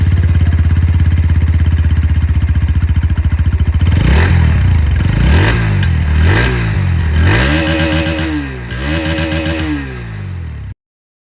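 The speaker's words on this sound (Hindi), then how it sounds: "और साथ ही अब अंडरव्हील एग्जॉस्ट की आवाज़ भी आप लोग सुन लीजिए।" A 125cc motorcycle with an underbelly exhaust idles with a steady throb, then revs up sharply in several rising bursts, loud and close, before stopping abruptly.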